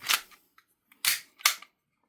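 A VFC Gen 5 airsoft pistol's slide is racked to cock the hammer, producing a few crisp mechanical clacks with small ratcheting ticks between them, close and clear in quiet surroundings.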